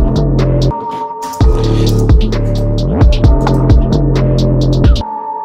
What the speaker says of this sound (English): you can hear the 808 kicking